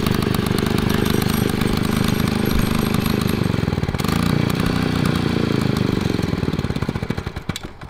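A small 2 HP two-stroke washing machine engine on a mini bike buzzes and rattles close by, holding a steady idle before revving slightly and then tapering off near the end.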